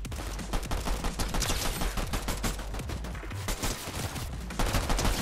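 Pistol gunfire in the Fortnite video game, a loud, dense and nearly continuous barrage of overlapping shots that keeps going without a break.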